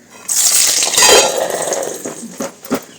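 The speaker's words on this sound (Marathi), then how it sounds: "तर लसूण टाकायचं आणि लगेच झाकण ठेवून द्यायचं." Garlic goes into heated oil in a pan for a lime pickle, giving a quick loud hissing burst that fades, followed by light metallic clinks as a lid is set on. No one speaks.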